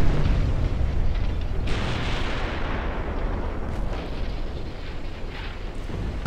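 Naval shells exploding in a 1930s British naval warfare video game, a loud continuous rumbling roar of blasts and booms that swells and overlaps, dense and heavy throughout with no talking.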